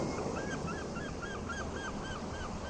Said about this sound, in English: we got some actual birds over here chilling.